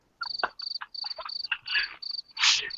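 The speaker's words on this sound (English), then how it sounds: "Play those crickets and we won't be talking for when she gets back." A recorded cricket chirping sound effect plays close and clear, with rapid, repeated high-pitched trills in short bursts and a few louder rustling bursts near the end.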